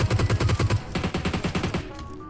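Rapid bursts of automatic gunfire from PUBG Mobile, a fast rhythmic string of loud shots followed by a second volley, then trailing off; no voices.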